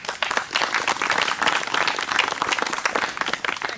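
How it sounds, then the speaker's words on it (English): A small crowd applauds steadily for several seconds, a dense patter of clapping hands without voices. "please give her a round of applause"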